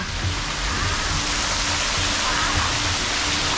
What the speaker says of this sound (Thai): ตอนนี้ก็จะเป็นน้ำตก